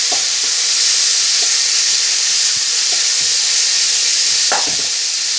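Tomatoes and caramelized onion cooking in oil in a pan, a loud continuous sizzle with scattered soft knocks and scrapes as they are moved about.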